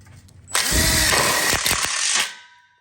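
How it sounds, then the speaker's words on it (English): A power drill drives a self-tapping low profile screw into a metal tube of a welded split bar counter kit for an outdoor kitchen, a loud close whirring burst of about two seconds that winds down. "we'll just lock it in like we did the other ones with a self-tapping low profile screw"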